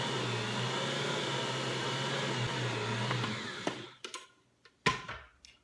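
A Bosch stand mixer kneads bread dough with a steady whirring motor hum for about three seconds, then winds down and stops, followed by a few scattered clunks and knocks.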